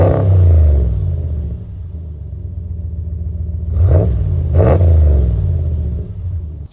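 A RAM 2500 diesel pickup with an 8-speed gearbox rumbles deep and close at the exhaust pipe, idling with low throbbing pulses, then two sharp revs burst up and fall back before it settles.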